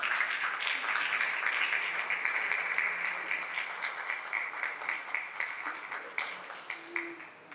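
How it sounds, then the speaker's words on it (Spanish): An audience at a cultural presentation applauds a composer and singer, with dense, steady clapping from many hands that gradually thins and fades out. "un aplauso, por favor."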